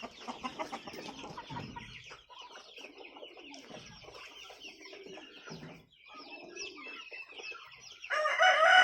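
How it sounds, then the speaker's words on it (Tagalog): Chickens on a poultry farm cluck and squawk in a busy overlapping chorus, a rooster crowing among them, moderately distant, with a louder burst of squawking at the end. "magpapakain muna tayo ng ating mga alaga manok"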